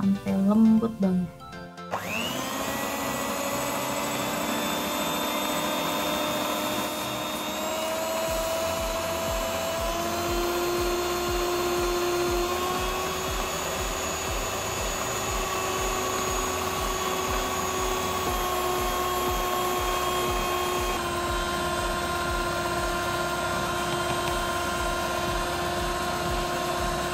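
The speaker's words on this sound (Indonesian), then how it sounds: "Setelah itu kita mixer dengan kecepatan paling tinggi sampai halus ya, sampai mengembang, sampai lembut banget." An electric mixer runs at its highest speed, whipping a milk mixture. It starts up with a jolt after a brief clatter, then holds a loud, steady whirring drone with a slowly shifting pitch for over twenty seconds.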